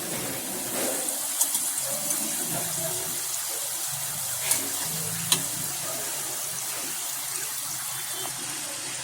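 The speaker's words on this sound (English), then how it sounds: "Fry till it becomes golden brown." Papdi dough crisps bubble and sizzle steadily in hot frying oil, a constant close crackling hiss with a few sharper pops and spatters, heard alone without voices.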